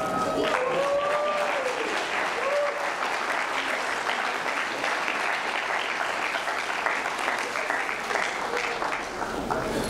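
A large audience applauds two children at the 2023 City of Romulus State of the City address, a steady, dense roar of clapping that fills the hall for the whole stretch, with a voice briefly audible at the start.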